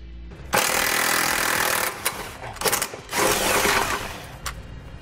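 Power tools, likely an impact wrench, loosening 21 mm factory bolts under a 2018 Dodge while a trailer hitch is installed. Loud bursts of noise come in two long runs with short sputters between, close by and with no talk over them.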